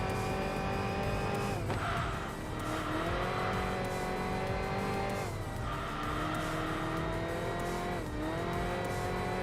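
A racing car in the Enthusia Professional Racing video game drives hard, its engine droning loudly and steadily with repeated gear shifts and surges in pitch, heard alone.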